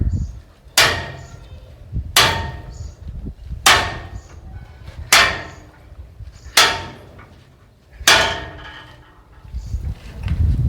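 Heavy sledgehammer blows on stone or pipe at a work site, six sharp loud impacts spaced roughly every one to two seconds, each ringing briefly before fading, with low rumbling background between strikes.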